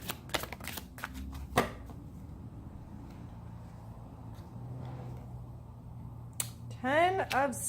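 Tarot cards riffle and snap as they are shuffled close by, a quick burst of crisp flicks at the start and a rapid flutter near the end, with a voice speaking in between.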